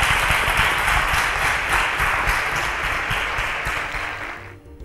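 An audience applauds loudly and steadily, then the clapping thins out and fades near the end.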